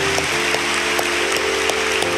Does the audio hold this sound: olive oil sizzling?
no